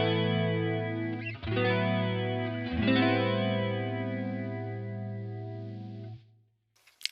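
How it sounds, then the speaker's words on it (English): Electric guitar played through a Boss CE-1 chorus pedal, sustained chords with a shimmering, wavering modulation, changing chord twice before ringing out and stopping abruptly, with no voices. "Now, listening to the Boss chorus."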